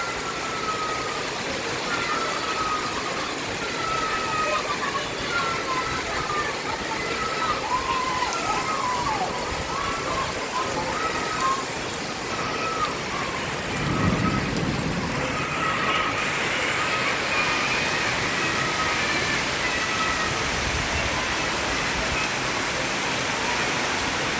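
Heavy rain pours steadily outside a window during a sudden afternoon shower, a dense, even hiss that fills the whole stretch without a break.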